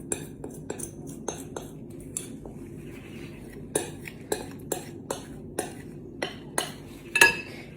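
Cutlery and dishes clink sharply as they're set into a kitchen sink, a series of irregular close knocks and rattles with one brighter clatter near the end, no talking.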